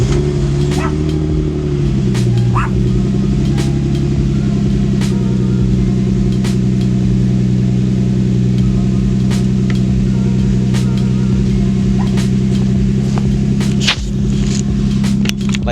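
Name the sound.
Lexus IS300 engine running with installed Y pipe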